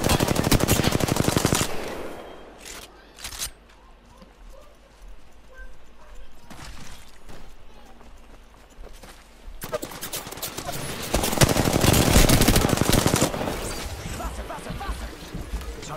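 Bursts of automatic gunfire from an Apex Legends-style battle royale firefight, loud and dense at the start, thinning into sparse shots in the middle, then erupting again in heavy sustained volleys.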